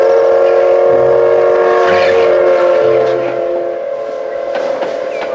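A Thomas toy train sounds a sustained, tonal whistle up close, with mechanical whirring and clicking underneath and a brief voice in the background.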